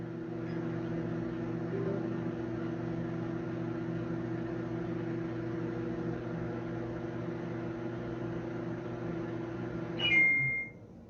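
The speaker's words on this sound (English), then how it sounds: "add 10 seconds to the microwave." A voice-controlled Internet of Things microwave oven hums steadily with a low tonal drone for about ten seconds, then a single high beep sounds as it stops.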